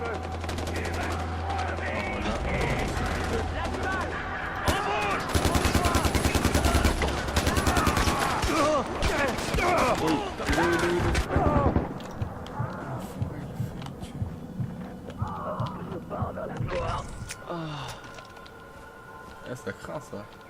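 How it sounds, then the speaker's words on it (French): Gunfire from the video game Far Cry 4, a long burst of rapid shots and explosive bangs crowding the first half, then thinning out under ongoing speech and game sounds. "Ça fait 12 coups de feu."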